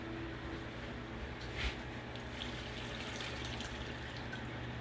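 Sauce poured over oxtails in a home kitchen, a soft, steady liquid trickle with a brief splash partway through, fairly quiet and close, with no talking.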